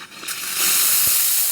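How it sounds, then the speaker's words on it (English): The steam wand on a VBM espresso machine opens with a brief sputter, then settles into a loud, steady hiss that runs close and unbroken to the end. "Nice strong steam."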